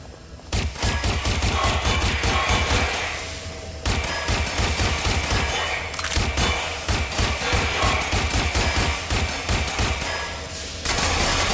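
Heavy automatic gunfire in Watch Dogs Legion rattles in long, dense bursts, with two short pauses. The close, loud firing sounds like several weapons shooting at once.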